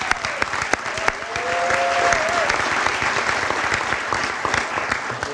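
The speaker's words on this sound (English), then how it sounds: "Give them a big round of applause" Audience applauds the boys track dream team at a spring sports awards event, steady clapping filling the room for several seconds with a few whistles rising above it.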